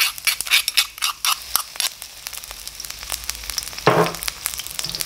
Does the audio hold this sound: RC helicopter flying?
no